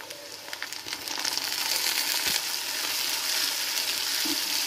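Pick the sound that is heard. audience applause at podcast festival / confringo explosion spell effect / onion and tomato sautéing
onion and tomato sautéing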